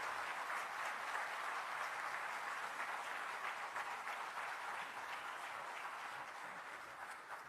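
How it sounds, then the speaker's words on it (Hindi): An audience at a World Hindi Day ceremony in Madhya Pradesh claps steadily, a soft, distant ripple of applause that fades slightly toward the end. "तालियों से उनका अभिनंदन करें"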